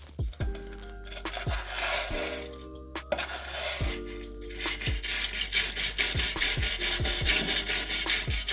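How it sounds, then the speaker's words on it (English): Wire brush scrubbing chemically stripped paint off the bare metal of an AE86 body, with repeated rasping strokes and scattered clinks over a steady low hum. "I'm going to use my trusty wire brush and see how this stuff comes off."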